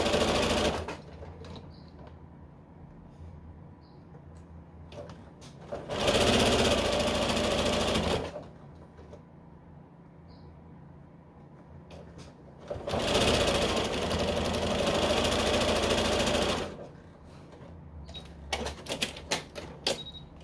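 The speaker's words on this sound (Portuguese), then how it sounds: "E passo costura aqui com o pé de máquina." A sewing machine stitching a patchwork glasses case runs in two bursts of several seconds each, close and steady. Quieter handling noises fill the pauses between them, with a few sharp clicks near the end.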